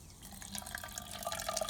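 A water and vinegar flush drains from the cooling system of a Kawasaki GPZ500S motorcycle, a faint, close trickle and splatter of liquid with small irregular drips, with no voices.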